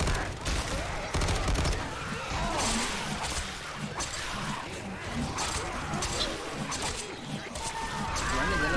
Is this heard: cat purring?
no